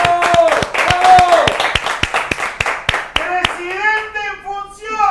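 Audience clapping to welcome a guest on a television show, sharp rhythmic claps close by, mixed with cheering voices, then giving way to speech near the end.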